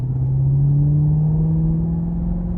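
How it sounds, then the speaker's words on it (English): Maserati Quattroporte Sport GTS with its exhaust valves open, a deep steady engine drone rising slightly in pitch as the car rolls along a back road, close and loud with no talk over it. "You can now hear the valves open up."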